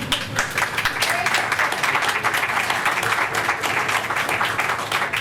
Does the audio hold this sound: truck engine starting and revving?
no